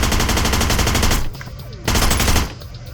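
Rapid bursts of Desert Eagle pistol fire ring out in the video game Hitman Blood Money, loud and close, broken by a short pause before the volley resumes.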